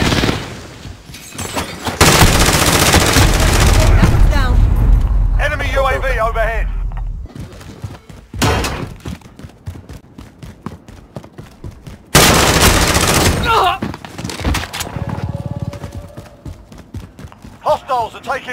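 Gunfire in the video game Call of Duty: Modern Warfare, with loud bursts of rapid automatic shots and single heavy reports. Shouted voices come in between the volleys.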